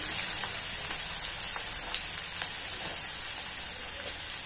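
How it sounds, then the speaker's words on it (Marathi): Onion with red and green chillies frying in a pan, a steady close sizzle with scattered small crackles and pops throughout, no talking. "तर ते थोडेसे परतून घ्यायचे आहे।"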